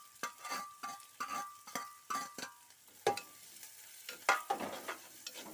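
Curry leaves and garlic fry in a pan while a spoon stirs them in a steady run of scrapes, each stroke rising over a quiet sizzle, with a few sharper clinks toward the end.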